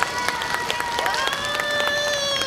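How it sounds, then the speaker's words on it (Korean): An outdoor festival audience at the Songtan tourist zone claps in rhythm with an amplified trot song. The sharp, regular claps sound over the steady music. "박수 부탁드립니다"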